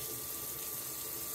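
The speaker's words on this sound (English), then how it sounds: "Faucet's working." A bathroom faucet runs in a steady, faint hiss of flowing water, uninterrupted and alone with no voices.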